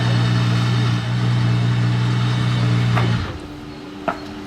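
An Aston Martin Valkyrie engine idles with a deep, steady hum that cuts off after about three seconds. Quieter outdoor background sound and a faint click follow.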